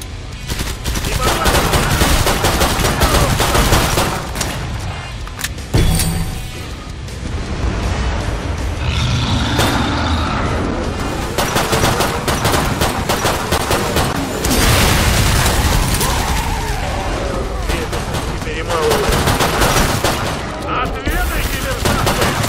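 Gunfire in the video game Killing Floor 2, loud sustained bursts of rapid automatic shots and booming blasts filling the whole stretch, with someone talking at times underneath.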